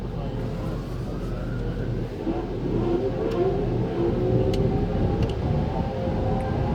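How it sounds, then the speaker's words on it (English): Powerful air dryers blow across a car inside an automatic car wash, a loud continuous whooshing rush heard from within the vehicle, with some faint people talking underneath. "Now here is the dryers."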